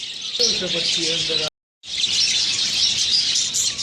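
A female budgerigar parrot chirps rapidly and continuously at close range, a bright, busy twittering that breaks off for a moment and then resumes.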